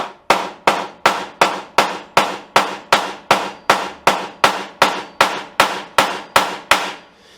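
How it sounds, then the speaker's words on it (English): Steady hammer blows strike a metal hinge, about fifteen sharp evenly spaced hits, close and loud, each ringing briefly before the next. "and then hammer it down"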